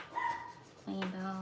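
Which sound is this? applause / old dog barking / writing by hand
old dog barking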